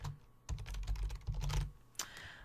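A computer keyboard is typed on up close, irregular clusters of crisp key clicks with brief gaps and a sharper final tap, used while entering a magazine cover headline.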